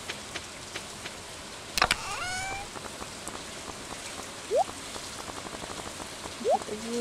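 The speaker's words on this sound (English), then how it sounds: "this is irony that it's raining here" Steady rain falls in the Stardew Valley farming game, a soft continuous patter with scattered drops, while a few brief sharp game sound effects pop up over it.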